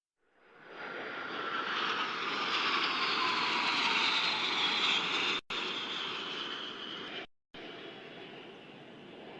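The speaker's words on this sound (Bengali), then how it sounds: "5টি K-8W বিমানের সমন্বয়ে গঠিত একটি 5 শিপার অ্যারোহেড ফরমেশন চমৎকার দক্ষতার সাথে প্রদর্শন করছে" Five K-8W jet trainers in arrowhead formation at an air show roar past, a broad jet-engine rush swelling in from silence and holding loud and steady for several seconds, with two abrupt dropouts near the end.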